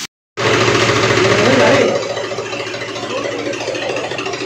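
A tractor engine running inside an onion storage room to pull away the mesh the onions rest on, a loud close rattling chug after a brief silence that eases to a steadier, quieter idle.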